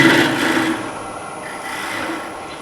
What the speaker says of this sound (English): I have a double bevel and that chisel there, so that allows me to take it in around the bottom there